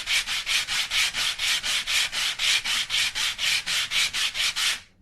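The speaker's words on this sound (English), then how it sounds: "It's not sanding in the middle yet." A wooden guitar brace is rubbed back and forth across a radius dish, making about twenty even, rhythmic sanding strokes that are close and steady before stopping.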